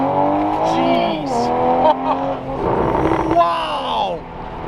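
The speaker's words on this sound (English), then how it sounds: "We got some pretty good wheel spin right there." Widebody Toyota Supra with an upgraded turbo roars under hard acceleration, engine pitch climbing and dropping through shifts while tires spin and squeal, loud and close throughout.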